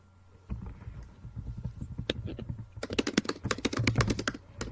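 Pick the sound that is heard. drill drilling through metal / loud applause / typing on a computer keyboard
typing on a computer keyboard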